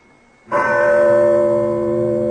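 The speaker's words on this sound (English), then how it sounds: "that is quite a bell to summon the servants" After a brief quiet, a large servant-summoning bell strikes once, loud and near, and its deep ringing tone hangs and slowly fades.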